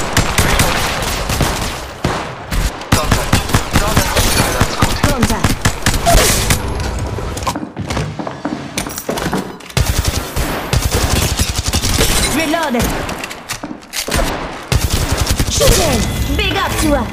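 Rapid gunfire fills a mobile shooter video game, with loud bursts of automatic fire and sustained volleys of shots that keep going almost without a break, with brief gaps and a player talking now and then over it.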